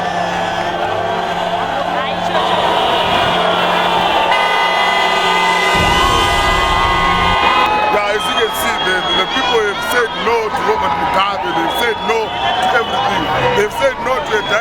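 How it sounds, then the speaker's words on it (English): A large street crowd in Harare cheers and whoops loudly and continuously, with horns honking and a voice speaking over the din. "Even the government employees are cheering. The soldiers are cheering."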